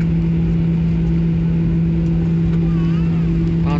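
A landing airliner at Brasília international airport gives a loud, steady engine roar with a strong low drone heard close from inside the cabin.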